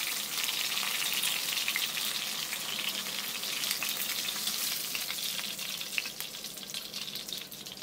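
Chicken pieces frying in oil, a dense, continuous crackling sizzle close up that holds steady throughout, with no voices over it.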